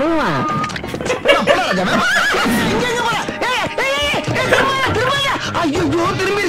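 In a Vadivelu horse-riding comedy scene from the movie Thavam, a horse whinnies loudly several times amid shouting voices and hoof clatter.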